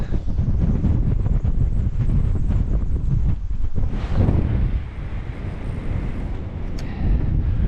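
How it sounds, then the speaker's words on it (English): Strong wind gusts buffet the microphone while kayak fishing in the Florida Keys, a loud, continuous rushing roar that briefly eases and then swells again. "That wind is whipping."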